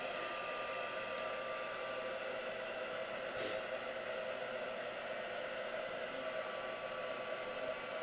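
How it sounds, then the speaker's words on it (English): A heat tool blows hot air over a card for heat embossing, giving a steady, close, continuous whooshing hum that stays level throughout, with no talk. "So as we're heat embossing it now,"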